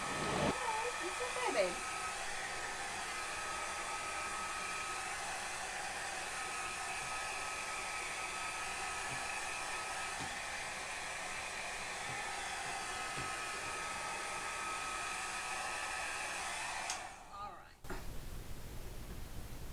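A hair dryer blows steadily on a wet cat after a bath, with a continuous close whoosh that holds for most of the stretch and then cuts off near the end, leaving faint room noise.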